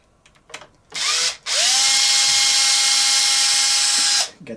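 Power driver spinning out a broken steering spindle part on an Arrma Big Rock RC car: a short whirring burst, a brief pause, then a loud, steady, high-pitched whine for about three seconds, close up with no talking.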